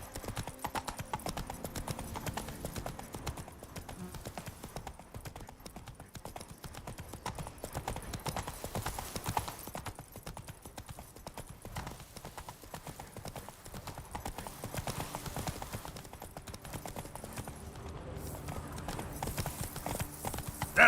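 Roach, Geralt's horse in The Witcher 3, trots steadily with a continuous, even clip-clop of hooves over a faint ambient bed for the full stretch, with no talk.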